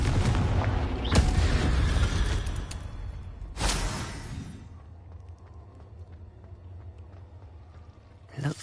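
A Confringo fire spell bursts in a cave in Hogwarts Legacy, giving two booming blasts a few seconds apart. A rumbling fiery rush runs under the first blast. After the second, the sound fades into a quiet hum, then a short sharp hit comes at the end.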